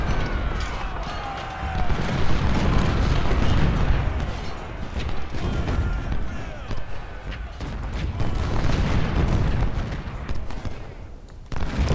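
Parrott gun artillery fires in the video game Ultimate General: Civil War, with booming reports and crackling volleys rumbling continuously over a dense battlefield din, loud and sustained.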